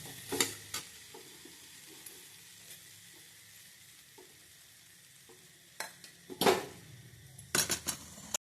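A spoon scrapes and clinks against a bowl of chickpea chaat in a few short bursts, with quiet stretches in between; no one speaks.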